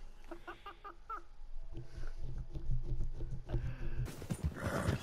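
Hooves clip-clop in a steady run in the Red Dead Redemption video game, with a horse whinnying and snorting near the end, all fairly close and moderately loud.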